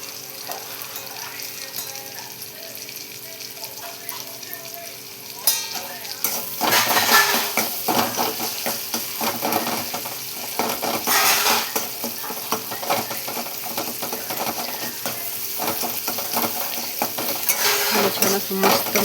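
Drumstick pods fry in a pan with turmeric and masala while being stirred, a steady sizzle that grows louder partway through, with repeated scraping and clinks of a utensil against the pan.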